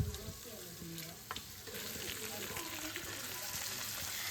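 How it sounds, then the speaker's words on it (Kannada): Fish frying in a pan with oil, a continuous dense sizzle and crackle throughout, with occasional faint utensil knocks and a low background murmur. "ಸೊ ಇವಾಗ ನಾನಿಲ್ಲಿ ಫಿಶನ್ನು ಫ್ರೈ ಮಾಡ್ಕೋತಾ ಇದ್ದೀನಿ ಫಸ್ಟಿಗೆ"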